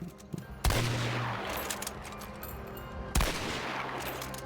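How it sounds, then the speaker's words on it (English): Gunfire in the video game Hunt: Showdown, depicted with true speed of sound over long distances: two loud, sharp shots about two and a half seconds apart, each followed by a long rolling echo and reverberant tail. "adding true speed of sound and a gunshot ecosystem for a more authentic depiction of gunfire and explosions over longer distances"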